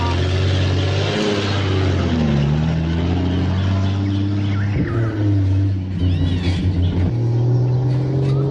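A car driven fast along a rough road, its engine rumbling and revving loudly and continuously in the foreground, with shifting pitch as it accelerates and bumps.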